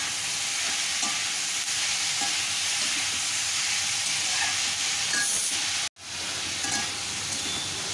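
Sautéed tomato added to tarka dal sizzles and fries steadily in the pan, a close, continuous hiss with faint stirring, briefly cut off near the end before resuming.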